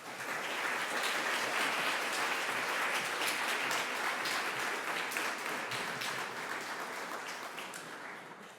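A lecture audience applauds steadily to welcome a philosophy professor, dense clapping sustained for several seconds and slowly thinning toward the end, with no talk over it.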